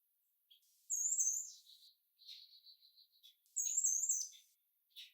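Small backyard birds calling in a group: bright high chirps and tweets in short bursts, clustered into two louder flurries with softer calls between, fairly close with no other sound around them.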